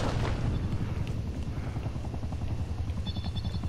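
A chopper gunner helicopter in the Call of Duty Cold War alpha gives a loud, steady rotor thump, with muffled booms of in-game gunfire and a brief electronic tone near the end.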